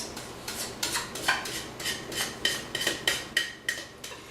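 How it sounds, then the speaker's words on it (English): Metal utensils tap and scrape against a dish as a first dessert layer is spread over a crust, giving about a dozen light, regular clinks close by with no talking. "I'll go ahead and put this first layer over the crust"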